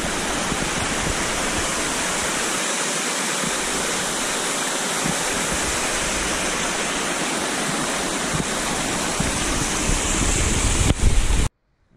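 Spruce Flats Falls pours in a steady, dense broadband roar of falling water, close and continuous without a break until it cuts out abruptly near the end.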